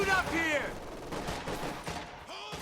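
Machine gun fire crackles in the World War II strategy game Company of Heroes 2 during a 2v2 match, with rapid bursts mixed into busy battle effects and unit voice lines.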